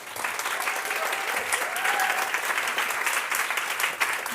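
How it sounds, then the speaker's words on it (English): An audience at an opening ceremony claps steadily, a dense, even wash of applause that carries on for several seconds without a break. "please give a warm, long hand of applause to Laura Santos-Carreras."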